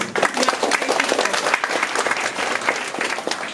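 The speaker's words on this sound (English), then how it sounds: "So clap a loud applause, louder than this for all of us" Crowd applause at a Women's Day 2024 gathering for women health ambassadors, a brief burst of dense, energetic clapping at close range, loud and continuous with no talking.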